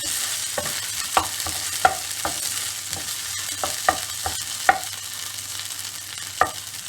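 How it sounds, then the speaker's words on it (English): Coarsely cut ginger, about an inch, frying in a pan while Cajun prawns are prepared, a steady soft sizzle with repeated sharp clicks and scrapes of stirring. "I'm adding around 1 inch of ginger, cut coarsely."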